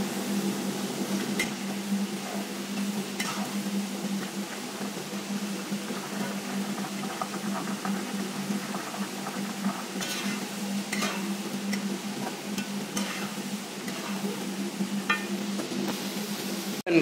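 Jackfruit chips deep-frying in hot oil until golden brown, giving a steady, even sizzle and bubbling hiss throughout, close by, with occasional faint ticks and clinks and no voices.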